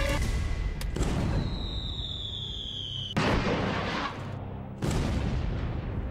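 Fireworks exploding outdoors, a series of loud booms and crackling bursts with a rising whistle, several sharp blasts spaced a second or two apart.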